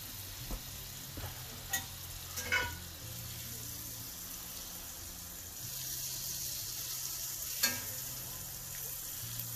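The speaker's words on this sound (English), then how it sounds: "Throw our butter in. Just take and melt that down really good." Butter melts in a hot pan with a soft, steady sizzle, broken by a few light clinks and taps of a utensil, and no talking.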